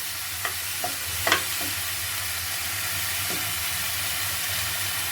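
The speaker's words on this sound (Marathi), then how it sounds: "मेथी आपल्याला यामध्ये छान परतून घ्यायची आहे" Fenugreek leaves sauté in a pan with a steady, close sizzle, broken by a few quick scrapes of stirring early on.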